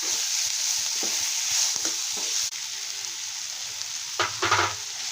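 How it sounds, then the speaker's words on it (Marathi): Garlic, ginger, tomato and grated coconut dry-roasting in a pan for a spicy masala, heard as a steady soft sizzle with scattered spoon scrapes and stirring knocks, louder near the end, with no talking. "टोमॅटो सगळं असं भाजून घ्यायचं हे भाजल्यानंतर आपण लास्टला खोबरं टाकायचं"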